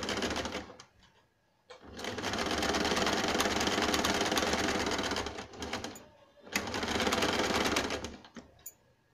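A sewing machine stitching a gown cut from an old saree runs in two long, steady bursts of rapid needle chatter, close and loud, separated by brief pauses with softer handling sounds.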